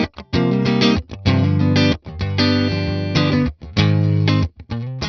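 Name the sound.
clean dry electric guitar through amp plugin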